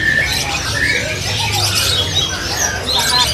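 Caged songbirds, including a male kacer, chirp and tweet at a bird shop in quick overlapping bursts, close and lively, over a murmur of background chatter.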